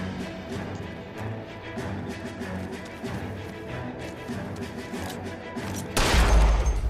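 Gunfire in the video game LA Noire, a dense, continuous crackle of shots over game ambience, ending in a sudden loud blast near the close.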